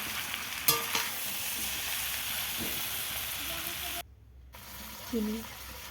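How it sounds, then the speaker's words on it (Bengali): Chalta pickle sizzles in hot oil as it is stirred, a steady frying hiss with a few scraping knocks and a brief dropout partway through. "ভালোভাবে নেড়ে নিতে হবে তেলে।"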